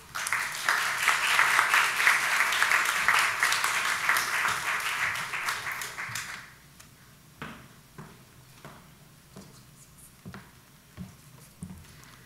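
Audience at a forum on capital flight applauding, a full, steady round of clapping for about six seconds before it drops away to scattered faint taps and room noise.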